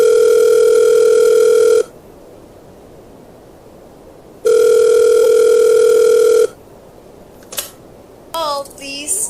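Telephone dial tone while a call to the police is being placed, two loud steady tones each lasting about two seconds with a pause between, followed by faint clicks of dialing.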